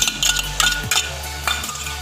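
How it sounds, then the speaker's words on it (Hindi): A spoon scrapes and clinks against a pot while yogurt is stirred into lentil gravy for daal mash, giving a few separate metallic taps and scrapes over a low steady hum from the stove. "ये हमारा दही मिक्स हो गया"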